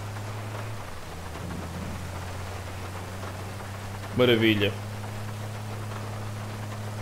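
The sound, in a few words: rain and thunder in video game GTA V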